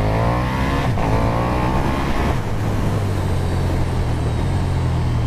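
KTM Superduke R 1290 motorcycle engine in sport mode, a loud close engine pulling hard with a rising rev sweep, a brief throttle break, then a steady high drone, with no talking.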